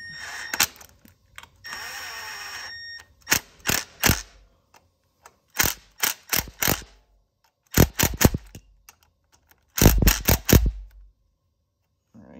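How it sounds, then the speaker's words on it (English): A Milwaukee 12-volt impact driver fitted with a swivel adapter and a Husky 8mm shallow socket fires in short rattling bursts on stator bolts, several separate hammering runs of a second or less broken by quiet pauses. "I'm using the Milwaukee 12-volt impact"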